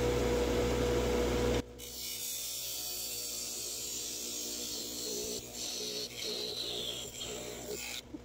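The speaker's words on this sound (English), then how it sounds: "I'm taking my thin parting tool to separate it from the main block" On a lathe, a thin parting tool cuts sapele wood away from the main block, a loud steady whirring scrape that suddenly drops to a softer, rougher rubbing hiss as the cut finishes.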